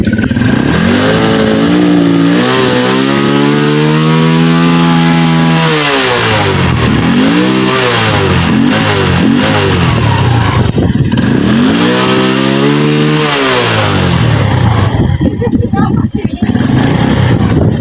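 Carbureted motorcycle engine with a misfire, revved hard several times in a row, each rev rising and falling in a loud, close sweep over a steady idle.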